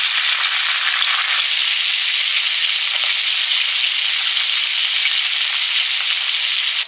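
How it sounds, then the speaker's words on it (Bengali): Magur catfish fry in hot oil, making a loud, dense, continuous sizzle that stays steady and close for the whole stretch, with no voices. "মাগুর মাছগুলো ভাজছি।"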